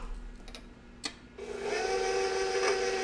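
An electric mixer whirs into canned pumpkin and boxed cake mix batter, starting after a few light knocks and settling into a steady, close, continuous hum with no talking.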